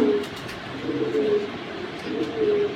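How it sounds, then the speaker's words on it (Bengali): Military breed pigeons cooing close by, several soft rolling coos repeating in bursts with faint wingy rustles between. "কবুতরের কমিউনিকেশন দেখেন কত সুন্দর, অরিজিনালি।"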